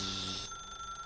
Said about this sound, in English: Okay, so now we're gonna actually answer the phone.